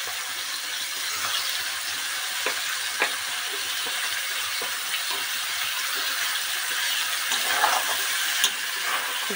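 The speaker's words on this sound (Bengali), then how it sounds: "দিয়ে এভাবে নেড়ে নিতে হবে। ভালো করে মশলাগুলো সব মাছের মধ্যে লাগিয়ে দিতে হবে।" Fish frying in spicy masala while being stirred for Bengali Amuda fish curry, with a dense continuous hiss and scattered light scrapes and pops, fairly close.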